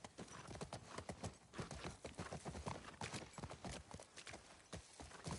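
Horse hooves clip-clop steadily and fast in The Last of Us Part II, a dense, continuous rhythm of hoof strikes at moderate loudness with no pauses.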